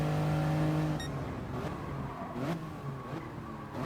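Engine sound from a Toyota GR Yaris racing at Fuji in Gran Turismo, a sustained, fairly faint revving drone with gear changes and shifting pitch as it tries to pass another car.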